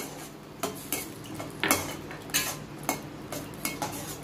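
Chilli paneer sauce thickened with cornflour slurry being stirred over low heat, a utensil clinking and scraping against the pan in irregular close strokes, with no talking.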